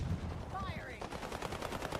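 Gunfire in a multiplayer video game: a rapid burst of automatic shots rattling after a brief whooshing effect, fairly close and loud.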